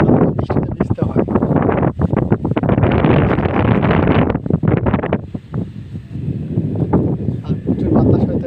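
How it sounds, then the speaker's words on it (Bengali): Strong wind gusts and buffets the microphone in a loud, roaring rush over sandy ground in Saudi Arabia, with someone talking over it. "আর প্রচুর বাতাস হইতেছে, বাতাসের শব্দ তো শোনাই যাচ্ছে।"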